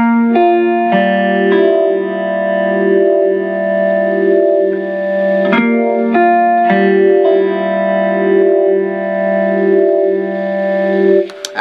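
An electric guitar plays the opening phrase of a song through a slow swirling modulation effect, with long sustained notes that gently waver and ring out clearly and alone.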